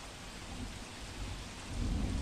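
Heavy rain pouring over a muddy open ground in Vadodara, a steady dense wash of rain with low thunder rumbling beneath it and swelling near the end, with no voices.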